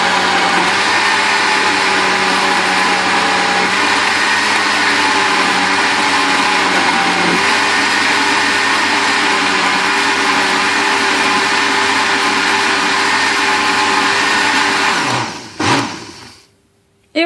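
A Thermomix blends pumpkin, potato and rice into purée, its motor roaring loudly and steadily for about fifteen seconds before winding down and stopping.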